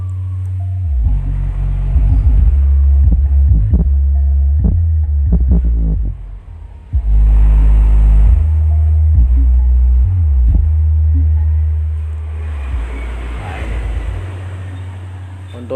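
Deep throbbing bass from an Embassy 8-inch bazooka subwoofer, playing loud and steady with a pulsing low rumble, briefly dipping mid-way before resuming.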